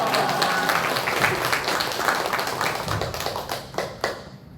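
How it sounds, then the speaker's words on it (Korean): A church congregation at a one-day revival worship service claps to welcome the preacher, a dense, continuous patter of many hands close by that stays loud throughout and trails off at the very end. "나오실 때 우리 박수로 할렐루야로 맞이하시면 할렐루야"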